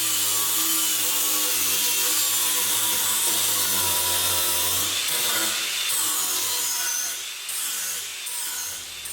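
A DeWalt DCG450 cordless brushless 18V angle grinder cuts and grinds into wood, a steady loud whirring abrasion with shifting tone and brief dips in load toward the end.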